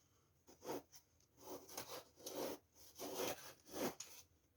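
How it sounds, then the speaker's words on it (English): Scrap insulation material being cut in an attic, a series of about six rhythmic rasping strokes like sawing, close and fairly quiet, with no voices. "You can see how easily we can cut this material."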